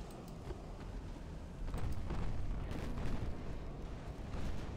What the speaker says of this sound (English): Second salvo, stand by.